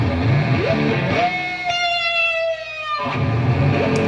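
An electric guitar through a wah-wah pedal, played live, with a vocal, sweeping quality, a sustained bent note gliding upward, full and loud with effects coloring the sound.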